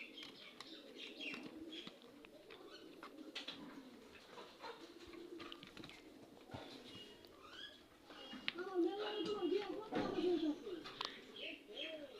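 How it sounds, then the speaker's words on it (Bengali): Young native pigeon chicks call with soft, faint coos and chirps, repeating irregularly and growing a bit louder toward the end, with light background rustle. "এই দুই পিস হলো দেশি কবুতরের বাচ্চা"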